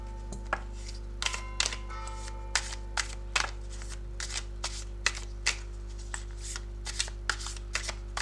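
Tarot cards being shuffled by hand, a series of crisp riffling snaps at a loose steady rhythm, close and clear over a low constant hum.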